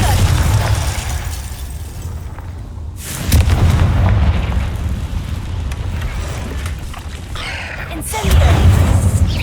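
Confringo fire spells exploding in the Hogwarts Legacy video game, heard as loud booming bursts, one near the start and another near the end, over a constant rumbling game soundscape.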